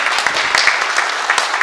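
A crowd at a Korean political speech event bursts into sustained applause, a dense, loud wash of many hands clapping steadily for nearly two seconds, with no voices over it.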